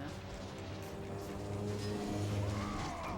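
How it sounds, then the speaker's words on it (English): A loud car passes outside a window with faulty glass, its engine and tire hum rising steadily to a near, swelling rumble over a faint background. "Car was very loud."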